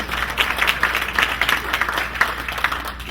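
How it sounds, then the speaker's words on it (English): A luncheon audience applauds in a steady wash of clapping that holds for a few seconds without pause. "Yeah, you can applaud."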